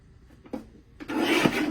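Paper strip being cut on a paper trimmer, with two faint taps followed by a brief scraping slice that rises louder near the end, close by with no voices.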